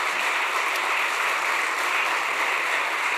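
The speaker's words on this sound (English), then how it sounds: "we'd like to have a big round of applause for them" Steady, dense applause from an audience in a room at a talk show event, even and sustained throughout without pauses or talk.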